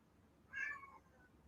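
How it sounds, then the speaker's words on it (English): A house cat gives a single short meow, fairly faint and close, alone against quiet room noise. "my cat won't shut up"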